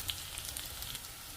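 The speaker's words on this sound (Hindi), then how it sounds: "प्याज को थोड़ा सा सोते कर लें, उसके बाद हम इसमें स्पाइसेस ऐड करेंगे।" Chopped onions and crushed chillies fry in a pan, giving a soft, steady sizzle with faint crackles, heard briefly and alone.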